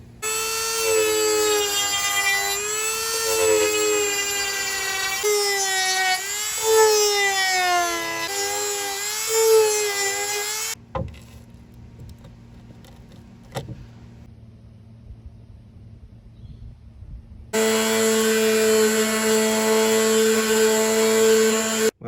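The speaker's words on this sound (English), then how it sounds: "I'm going to begin the horrible task of sanding these wings down smooth with the bonnet" A high-pitched rotary tool whines loudly, its pitch wavering as it sands the wings of a model Rolls Royce body, stopping for a quiet stretch before starting up again.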